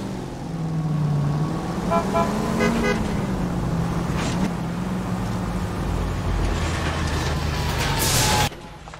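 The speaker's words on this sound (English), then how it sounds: "That's the car, Cole. Just pulling out of the drive." A car pulls out of a driveway in the game L.A. Noire, its engine humming with a gliding pitch, plus short horn toots near the middle and a loud burst near the end.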